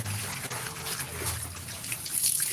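A tap runs steadily with a soft, continuous trickle of water, faint and unbroken.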